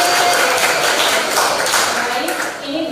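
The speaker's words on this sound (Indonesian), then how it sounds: "Tepuk tangannya mana?" Students in a junior high school classroom clap their hands together in a loud, dense burst that fades slightly toward the end.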